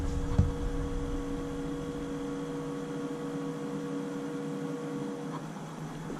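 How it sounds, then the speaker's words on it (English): An Adventure Kings 45 litre car fridge runs with a steady, quiet electrical hum, a low continuous drone held evenly for several seconds with a faint click near the start. "I don't know if you can hear it humming in the background there."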